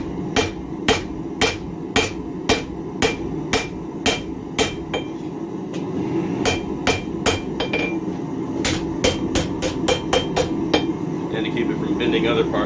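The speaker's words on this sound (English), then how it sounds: "I'm going to use a fairly heavy hammer for this, so I'm not really trying to shape anything, I'm just trying to get it to lay down" A heavy hammer strikes a steel blade to lay down its bevel, loud ringing blows in a steady rhythm, close by, with brief pauses between runs of strikes.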